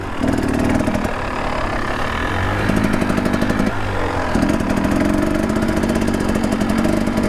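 A Husqvarna TX300 dirt bike engine chugs loudly nearby, rising and dropping in pitch as the throttle opens and eases, a rough mechanical buzz running throughout.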